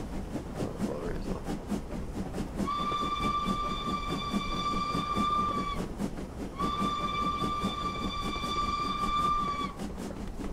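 Two sustained steam whistle blasts from a Thompson B1 4-6-0 locomotive in Train Simulator Classic, each lasting about three seconds with a steady harmonic tone, sounding loud and clear over a continuous rumble of the moving train.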